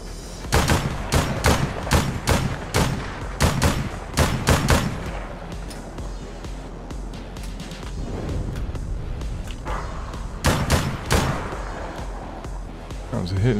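Heavy gunfire in the APB Reloaded shooter, with rapid bursts of sharp, loud shots in quick rhythmic strings, a quieter rattling stretch midway, then more close, punchy bursts near the end.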